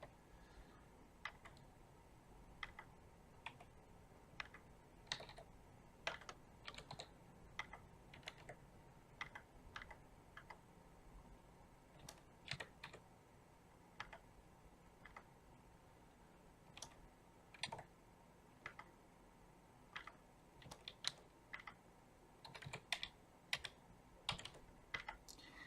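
Fingers tapping on a computer keyboard to enter values, quick irregular bursts of crisp clicks with short pauses, close and fairly quiet.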